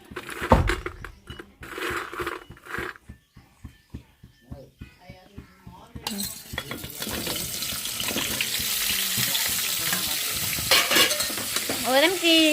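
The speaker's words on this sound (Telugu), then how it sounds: "ఇప్పుడు దాంట్లో టమాటాలు పచ్చిమిరకాయలు వేయిస్తుంది అనమాట చట్నీకి" Tomatoes and green chilies fry in a pan for chutney in a home kitchen, with stirring scrapes and clatter, then a steady, loud sizzle in the latter half, and running water nearby.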